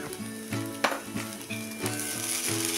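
Poha being stir-fried in a pan with salt and sugar: a close, steady sizzle broken by rhythmic scraping stirs about twice a second, with no talk.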